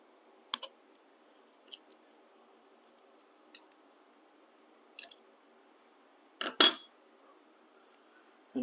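A Stanley Bailey hand plane being taken apart, with scattered light metallic clicks and clinks from its parts, close and fairly quiet, ending in a louder rattling clatter in an otherwise silent room.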